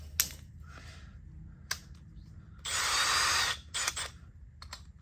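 A power drill fitted with a very large bit, boring into a Kyu-Gentsuki style scooter, gives a few short close bursts and one sustained whirring run of about a second, with clicks and handling noise between.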